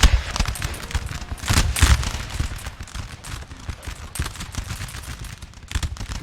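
Line infantry musket volleys ripple down the line in a large Napoleon: Total War multiplayer battle, dense crackling shots overlapping continuously with louder bursts rising out of the din.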